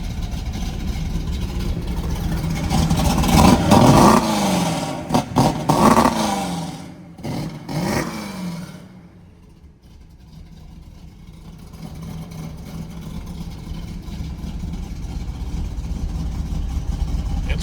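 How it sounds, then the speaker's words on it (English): A fuel-injected 340 engine in a 1973 Plymouth Barracuda starts in a cold garage and runs loud with rising revs for several seconds, then settles into a quieter, steady warm-up idle. "It's a 340 motor. It is fuel injected, so I should back up a little bit and say you don't need to pump the gas at all."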